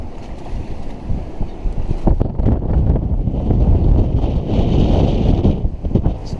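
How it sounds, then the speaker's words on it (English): Loud, roaring wind gusts of about 30 knots buffet the microphone on a Tartan 37 sailboat at night in the Florida Keys, with rushing water and waves beneath, swelling stronger toward the end. "It's getting pretty windy out here."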